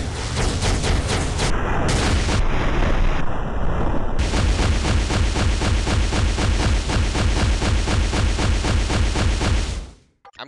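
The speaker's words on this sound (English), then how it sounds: "Now, the sixth attack, this is the ultimate attack." Rescue's ultimate attack in the mobile game Marvel: Future Fight bursts out as loud, dense, rapid-fire blasts and booming impacts, with a brief tonal beep layered in, then cuts off abruptly.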